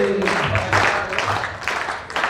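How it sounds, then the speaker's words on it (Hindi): Audience clapping at a poetry show, with a crowd applauding in uneven bursts of many hands that swell and fade over a couple of seconds, close and fairly loud, with a faint voice underneath. "ताली बजाओ मिलके सारे जोर जोर से"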